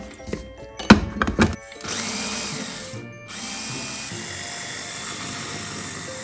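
Electric grinder chopping walnuts with sugar, a steady close whirring whine that runs continuously after a few short knocks and clatters, briefly dropping out before starting again.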